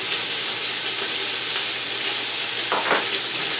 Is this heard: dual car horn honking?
no